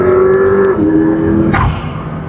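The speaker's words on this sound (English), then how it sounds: "I always remember the lift-off turbo spool." A McLaren P1 on a race track holds a loud, high engine note, which drops in pitch as the driver lifts off, then gives a brief hissing burst of turbo spool before fading.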